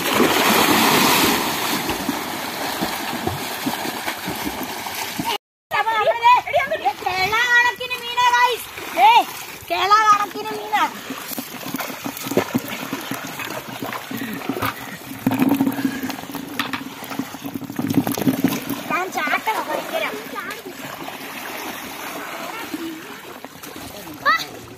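People swim across a stream, with water splashing repeatedly and loudly close by, mixed with shouting and chatter, including children's voices, throughout.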